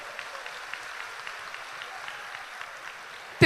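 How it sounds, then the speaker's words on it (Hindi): Audience clapping at a ceremony honoring a man who donated his land, a steady, fairly soft wash of many hands heard from a distance, ending with a sudden loud bump. "एक बार जोरदार तालियां इनके लिए हो जाए"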